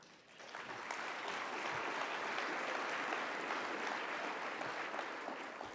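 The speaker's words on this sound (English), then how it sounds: "And that applause is for yourselves." Audience applause at a State of SVA address, a steady, dense wash of clapping filling the room that holds evenly for several seconds and tapers slightly at the end.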